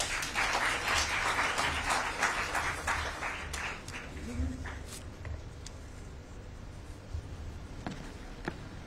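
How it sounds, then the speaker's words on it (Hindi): Audience applause at a business leaders' coffee table book launch, dense clapping that starts loud and thins out into scattered claps, with some voices underneath. "एक बार फिर से जोरदार तालियां।"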